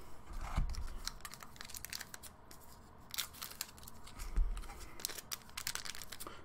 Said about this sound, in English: Let's get another stack, and this time I will cut them all